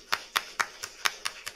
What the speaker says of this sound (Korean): 큰 박수로 우리가 환영해 주면 감사하겠습니다.